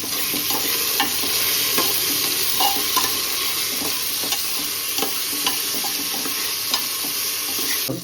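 Tomatoes stirred into a hot frying pan for chicken rice, giving a steady close sizzle with scraping stir strokes and utensil knocks throughout, no talking.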